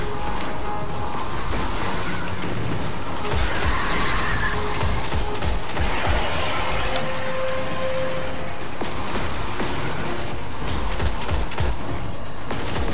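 Dense, continuous primary-weapon gunfire in Destiny roars throughout, loud and sustained with bursts layered over a constant noisy background.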